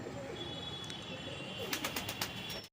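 Domestic pigeons of a good breed coo softly in a loft, a low murmuring coo under a faint background hum, followed near the end by a few sharper chirps and flutters.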